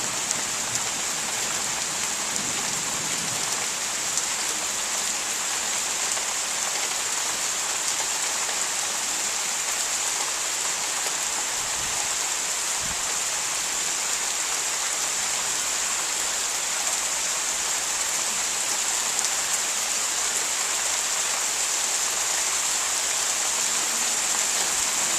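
Heavy rain from a thunderstorm in Pittsfield, Massachusetts falls steadily, a dense, continuous hiss of drops on surfaces that stays even and loud throughout.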